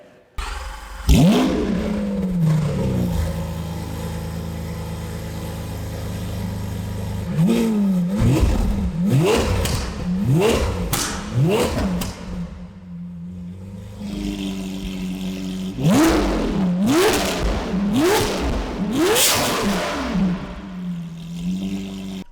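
A Lamborghini Aventador's high-revving V12 engine with a loud modified exhaust screams through repeated sharp throttle blips and rising revs, loud and close, with brief pauses between bursts.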